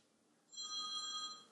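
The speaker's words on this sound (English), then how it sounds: "that's the phone ringing" A telephone rings in a workshop with a single bright electronic trill lasting about a second. It starts abruptly after a quiet moment and sounds fairly faint over low room noise.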